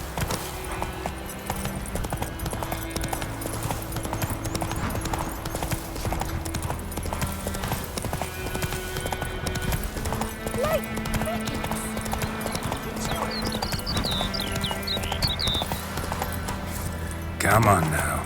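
Roach, Geralt's horse in The Witcher 3 game, trots with a steady, close clip-clop of hooves over continuous background music and ambience, ending in a brief louder burst.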